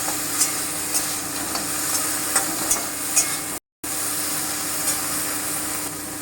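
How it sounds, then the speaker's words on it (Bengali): Okra seasoned with salt and turmeric fries lightly in a pan, giving a close, even hiss of sizzling oil with faint crackles, cut by a brief gap of silence partway through. "দিয়ে আমি একটু ভেজে নেব খুব বেশি ভাজবো না হালকা করে ভাজবো"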